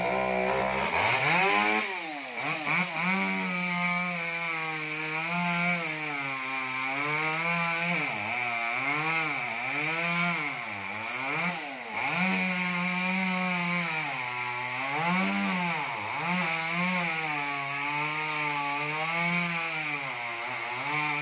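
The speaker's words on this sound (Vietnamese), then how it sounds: "Máy cưa của ảnh nó bị kẹt ba cái xô dừa hay gì đó các bạn." Chainsaw cutting down a coconut palm, its engine droning loud and continuous for the whole stretch, pitch swooping up and down as the revs rise and fall with the cut, with no voices.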